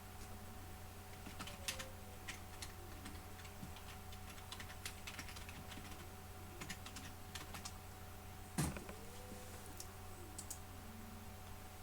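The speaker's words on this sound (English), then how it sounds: "you can hear me clicking and typing and all kinds of stuff" Quick, light clicks of typing on a computer keyboard mixed with mouse clicks, steady and fairly faint against a constant background hum, with one sharper knock near the end.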